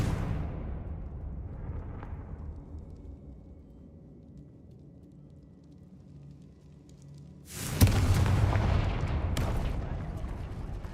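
A Confringo fire spell blasts in Hogwarts Legacy: a low rumbling drone fades, then a sudden loud burst erupts near the end and roars on, with a second crack following.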